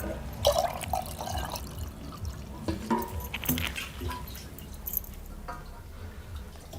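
Hot water is poured into a pot of Kolhapuri chicken curry (tambda rassa) on a wood-fired clay stove, making soft, fairly faint splashes and drips up close.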